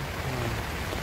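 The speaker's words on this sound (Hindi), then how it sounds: "खड़े हो जाओ भाई, बारिश आ चुकी है" Heavy rain at a mountain campsite on the Hampta Pass trek makes a dense, even hiss of falling water that fills the short moment without letting up.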